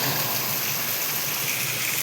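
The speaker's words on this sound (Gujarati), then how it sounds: "ઓ ભાઈ બહુ વરસાદ આવ્યો" Heavy rain pours down in a dense, steady, close hiss of water that holds unbroken throughout, with no talking.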